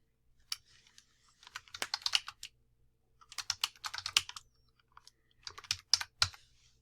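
Typing on a computer keyboard while entering a title into a motion-graphics composition panel: quick, close clusters of light key clicks in three bursts separated by brief pauses, fairly quiet and with no voices.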